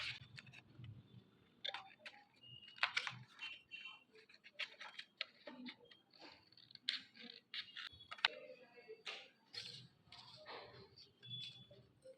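Scissors cut out a paper pyramid shape drawn with 6 cm triangles, making repeated crisp snips and rustling paper close by in uneven bursts.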